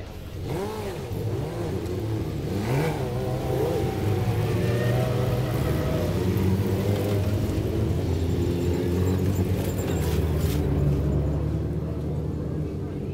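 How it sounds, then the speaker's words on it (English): All-Star Dwarf race cars roar around the Antioch Speedway oval in a steady, loud pack, engines droning and rising in pitch as they pass, with a voice talking faintly over them throughout. "The All-Star Dwarf cars are underway."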